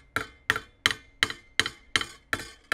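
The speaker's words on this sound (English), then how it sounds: "I'm just hitting it hard enough to ensure that it'll loosen up and move a little bit." Hammer tapping a dent out of a steel GEW 88 rifle jacket, eight light, evenly spaced metallic taps with a bright ringing clink, close and alone with no talk.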